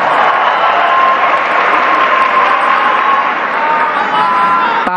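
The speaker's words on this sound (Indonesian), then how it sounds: "Tepuk tangan untuk para pejuang reformasi kita." A large crowd at an Indonesian political rally applauds and cheers continuously, a dense, loud wash of clapping and shouting that holds steady throughout.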